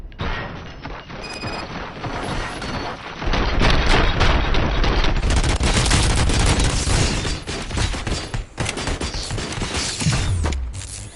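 Sustained gunfire rattles through a RoboCop: Rogue City firefight, loud and dense, with rapid bursts and booming impacts piling up for several seconds before thinning out.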